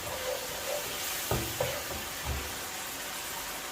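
Beef chilli with black pepper fries in a pan with a steady, dense hiss of sizzling, broken by a few soft knocks of a utensil.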